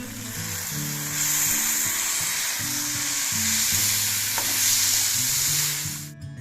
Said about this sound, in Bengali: প্রায় 5 থেকে 6 মিনিট লো ফ্লেমে খুব ভালো করে ভাজতে হবে।